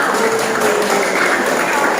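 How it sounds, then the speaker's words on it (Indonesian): Children in a classroom clap their hands together in a steady, dense patter that fills the space, with voices mixed in underneath. "tepuk tangan untuk kita semua"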